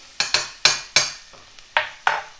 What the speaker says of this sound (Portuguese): Eu só vou dar uma refogada de leve e depois já vou entrar com as carnes aqui.